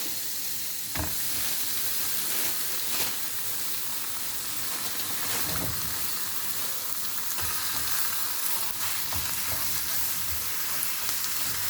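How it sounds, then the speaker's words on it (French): Minced meat sizzles in a hot pan for a bolognaise sauce with vegetables, a continuous close frying hiss broken by occasional stirring scrapes and clicks, no voices. "Maintenant, on va rajouter la viande hachée."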